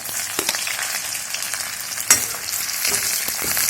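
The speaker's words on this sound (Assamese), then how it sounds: "এতিয়া মই ইয়াত পিঁয়াজখিনি দি দিম তেলত" Onions fry in hot oil with a loud, continuous sizzle, broken by a few sharp clinks and scrapes of stirring, with no one speaking.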